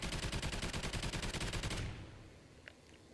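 Rapid automatic gunfire from a video game weapon being emptied, a steady stream of loud, evenly spaced shots for about two seconds before it stops and leaves quieter ambience with a faint click.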